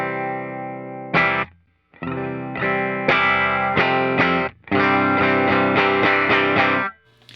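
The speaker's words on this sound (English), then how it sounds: "So here we go, bridge pickup with no compressor." Electric guitar played through the bridge pickup of a single-coil guitar with no compressor, chords ringing out in loud bursts with short gaps, distorted and effects-laden, no talk.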